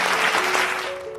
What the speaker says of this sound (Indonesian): Boleh beri tepuk tangan buat Tuhan Yesus Kids.